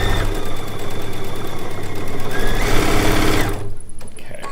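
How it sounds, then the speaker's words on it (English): A sewing machine stitches a seam joining quilt pieces cut from charm packs, its needle running in a steady, fast, close mechanical whir that cuts off abruptly near the end. "I push my top seam towards the presser foot, then my bottom seam is coming out towards me"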